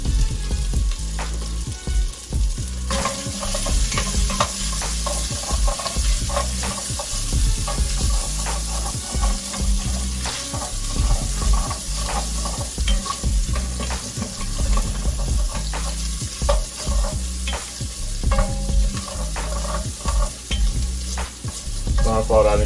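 Chopped onions sautéing in a hot pan for baked spaghetti, a loud continuous sizzle up close with regular scraping and stirring strokes throughout, and no one speaking.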